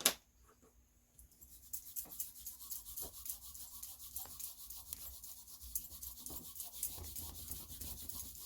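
A rubber eraser rubs back and forth over a pencil drawing of a squirrel on paper, close and soft, in a steady scrubbing rhythm that grows busier toward the end.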